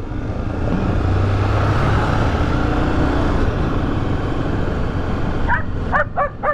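A small dog gives a quick series of sharp yips near the end, heard over a loud, steady Honda XRE300 motorcycle engine rumble.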